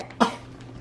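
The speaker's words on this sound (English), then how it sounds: "Ooh, you've got the coughs too." One short, sharp cough from a person indoors in a kitchen, close and fairly loud against a quiet background.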